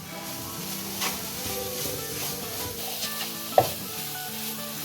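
A chicken bun filling with chilies, chopped green chilies and crumbled chicken cubes is stirred in a pan, giving a soft continuous sizzle with light scraping and one sharp knock, over quiet background music.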